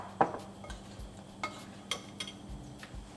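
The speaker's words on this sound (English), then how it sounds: "Now we'll just take a spoon and we'll coat all the gobi with the batter that we've created." A spoon scraping and clinking in a bowl while coating cauliflower gobi pieces in batter for Gobi Manchurian, with a few sharp knocks and soft wet stirring, close and fairly quiet.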